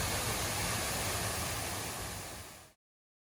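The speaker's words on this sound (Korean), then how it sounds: "시원한 폭포 먼저 한번 보고 갈게요." An artificial waterfall at a park beside a transit stop gives a steady, close, full-bodied rush of falling water that runs unbroken, then cuts off abruptly near the end, with no voices.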